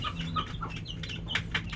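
Pet chickens clucking at feeding time in a homemade coop, a short burst of overlapping hen clucks and chirps close by.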